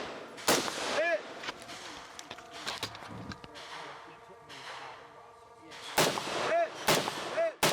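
Gunshots at an outdoor 2-gun shooting match, a series of sharp reports of varied loudness with ringing steel-target hits between them.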